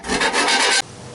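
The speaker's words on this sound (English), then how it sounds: "File it down, get some of the nasty burrs off of it." A file rasping burrs off metal during a carbide winch install, a harsh, loud scraping stroke close by, ending abruptly.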